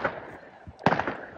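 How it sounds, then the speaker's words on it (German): New Year's Eve fireworks and firecrackers crack in the distance, with one sharp, louder bang standing out midway amid a steady crackling background. "Siehst du die Knallerle?"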